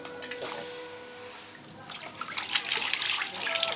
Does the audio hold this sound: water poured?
yes